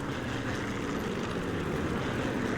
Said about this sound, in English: We have some very loud planes.